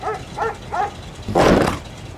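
A dog in a stop-motion animation barks three times in quick succession, then lets out a longer, louder growling bark, close and alone.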